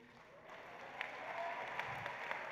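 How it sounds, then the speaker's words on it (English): An audience claps at a university new student induction ceremony, a soft, steady patter of applause heard from a distance with a few sharper claps standing out. "Yep, clap it up."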